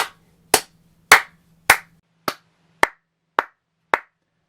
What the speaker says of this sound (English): let's clap, see how that comes off